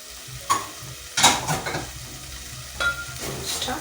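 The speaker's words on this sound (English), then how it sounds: "Stir, give it a good stir." Vegetables, carrots and green pepper, frying in a pan for matoke, stirred with a utensil in a few scraping strokes over a low sizzle, close by and moderately loud, with no talking.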